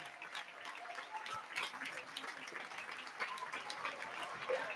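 Club children and parents applauding the players of Athletic FS Tordera after a youth futsal match against Sant Julià de Ramis, steady scattered clapping from a crowd throughout, moderately distant with faint voices mixed in.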